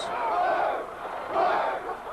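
S11 protesters in Melbourne shouting at police, a dense crowd roar that rises in two loud surges of massed yelling about a second apart.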